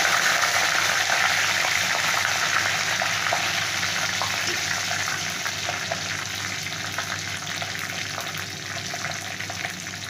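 Mustard seeds and curry leaves sizzle steadily in hot oil while a fish pickle is being made at home, a dense, continuous frying hiss with scattered small pops and crackles that fades slightly toward the end.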